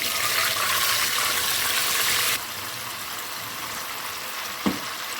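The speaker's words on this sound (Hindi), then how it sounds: "हमने ये जो लहसुन बिल्कुल मैश कर दिया था और थोड़ा पानी डाला था, इसका हम लगाएंगे बघार" Mashed garlic in a little water hits hot oil for a baghar tempering: a loud, close sizzle that settles into a quieter, steady frying hiss halfway through, then a single small clink near the end.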